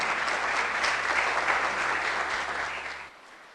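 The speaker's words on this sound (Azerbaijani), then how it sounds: "Alqışlarınızla." An audience at a business award ceremony claps in a dense, even burst of applause lasting about three seconds before cutting off abruptly.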